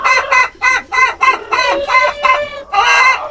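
A rooster with a comb turned jet black from a cold clucks loudly and close, about eight rapid harsh calls in quick succession ending in a longer call, with no voices.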